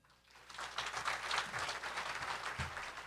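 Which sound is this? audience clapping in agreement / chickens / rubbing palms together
audience clapping in agreement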